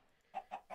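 Chickens in Minecraft Stoneblock 2 give three short clucks in quick succession, fairly close and alone, with a quiet pause before the first.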